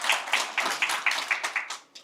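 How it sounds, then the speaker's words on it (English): Audience at a pension scheme member education meeting claps in a steady burst of applause, rhythmic individual claps merging into a lively round that tapers off near the end, with no talking. "Give yourself a round of applause."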